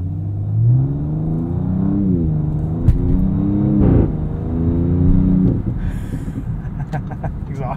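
2023 Audi S6 engine and exhaust rumbling under acceleration, a steady close-up drone with rising and falling revs through the cabin, briefly louder around the middle before settling, with no talk over it.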